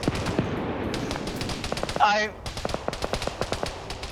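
Rifle and automatic gunfire in a PvP military shooter game match, rapid cracking shots in dense bursts over a busy battle backdrop, with a voice talking over it.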